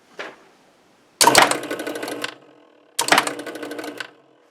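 A 1976 Williams Aztec electromechanical pinball machine clatters in bursts, with a short click and then two rapid mechanical rattling runs of relays and score motor, each about a second long, loud and close with pauses between.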